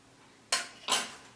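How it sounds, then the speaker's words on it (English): Two quick metallic scrapes of a utensil against a pot while stirring melted chocolate, sharp and close, about half a second apart, with no talk. "Give it a little stir"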